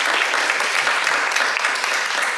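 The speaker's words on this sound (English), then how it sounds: "let's give a big round of applause for our panelists today" An audience at a wealth-building mastermind event claps for panelists, a steady, dense round of applause holding at even loudness throughout without a break.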